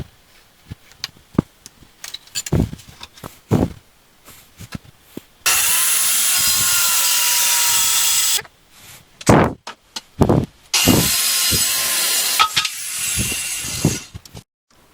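A handsaw works through a piece of wood during a homemade guitar lamp build, first in a few scattered rasping strokes and knocks, then in two long, loud, steady stretches of continuous sawing up close.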